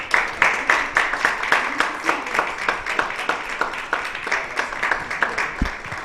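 An audience claps steadily at an evening youth gathering, a dense even patter of many hands lasting throughout without voices over it.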